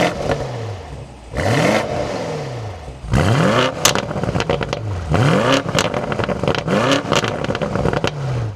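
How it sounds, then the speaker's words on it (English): A 2026 BMW M850i Gran Coupe M Heritage Edition fires up and is revved repeatedly, its engine note climbing and falling in a series of loud, sharp throttle blips close by, with a brief quiet idle before the start. "let's start this back up,"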